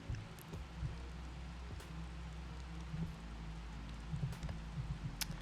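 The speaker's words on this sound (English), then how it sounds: "It's actually fitting that it's raining here" Light rain falls steadily in the game Sailwind, a soft, even patter of drops across a green island setting with faint scattered ticks and a low ambient bed, no talk.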